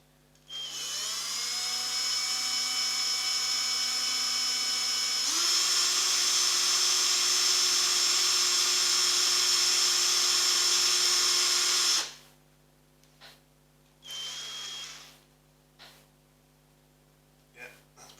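A high-pitched power drill with a 1.5mm bit whines steadily for about twelve seconds while drilling a sanshin or shamisen part, its pitch stepping up partway through, then a few short bursts follow after it stops.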